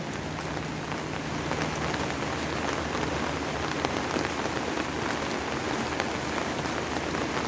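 Heavy rain pours down steadily outdoors at a rural Thai home, a dense, even hiss of drops on surfaces with no pause and no voices.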